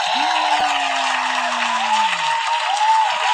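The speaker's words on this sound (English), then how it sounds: "Round of applause, please." A studio audience claps and cheers in a sustained, even wash of applause, with a brief sliding tone near the start and no clear speech over it.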